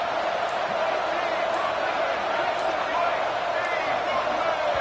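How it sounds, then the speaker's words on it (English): Loud, roaring stadium crowd from a college football video game, South Carolina against Ole Miss, a steady wall of noise that never lets up. "with this place rocking, the crowd forces a false start"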